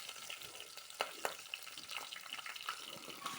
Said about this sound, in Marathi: लसूण टाकलंय आपण, तो थोडा लाल होऊसर ठेवायचा आहे. त्याच्यानंतर मिरच्या टाकायच्या.